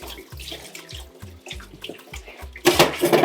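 Water runs from a tap while onions are rinsed, with gurgling splashes and uneven bubbly pulses, then a louder spraying rush near the end, close and with no talk.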